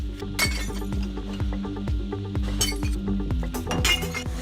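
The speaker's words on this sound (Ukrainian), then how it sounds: "Це правило має захистити жителів навколишніх будинків від гучного звуку скла, що б'ється." Glass bottles shatter and clink against one another inside a glass recycling container in Germany, a rapid run of sharp crashes and tinkling over a low mechanical rumble, loud and close.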